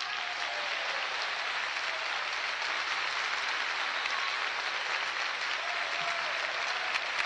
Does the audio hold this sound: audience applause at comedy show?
yes